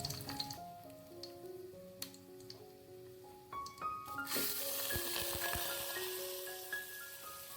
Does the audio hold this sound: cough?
no